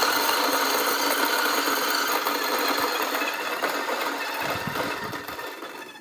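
An Acaia Orbit coffee grinder's motor runs steadily through an automatic purge, giving a continuous whirring, gritty rasp that stays loud and even and eases off slightly toward the end.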